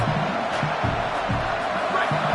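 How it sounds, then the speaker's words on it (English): A stadium crowd roars in a dense, steady wash at a college football game between Michigan State and UCLA, loud and continuous with no break. "The roar of the crowd trying to fuel this defense to keep them pinned in their own end"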